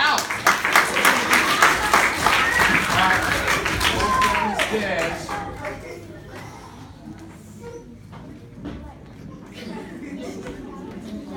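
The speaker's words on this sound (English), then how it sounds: "Let's give him a round of applause, but he is out." A school audience at a college event bursts into loud, dense applause with cheering and chatter, the clapping fading to scattered claps and murmuring crowd noise after a few seconds.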